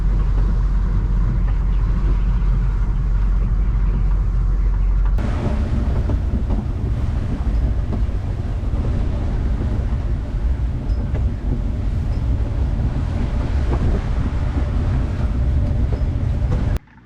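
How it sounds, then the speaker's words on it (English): A storm with high winds and waves at an anchorage, heard as a loud, steady roar of wind buffeting the microphone, with a heavy, continuous rumble and no let-up until it cuts off near the end. "in the high winds and the waves."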